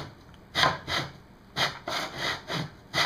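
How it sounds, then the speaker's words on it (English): Hand saw cutting through quarter-inch wood for toy swords, close-up rasping strokes in uneven bursts, about six strokes over three seconds with short pauses between, no talking. "We're going kind of easy because this is only 1/4 inch wood."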